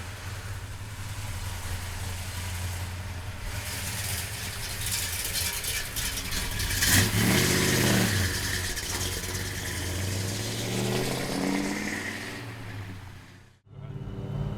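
A 1965 Pontiac GTO V8 rumbles at idle, then revs up with a rising and falling surge in the middle before settling back, ending with a brief cut to near silence.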